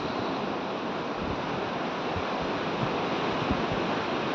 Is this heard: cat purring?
no